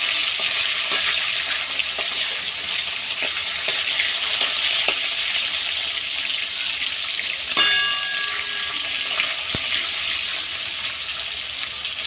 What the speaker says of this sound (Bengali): তেলটা এবার কড়ার গায়ে একটু লাগিয়ে নিলাম মাছগুলো ভেজে নিলাম